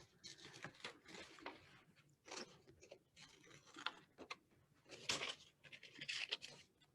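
Scissors that are not working properly snip through paper in a craft session, giving quick crisp cuts in uneven bursts at close range with quiet handling noise between them.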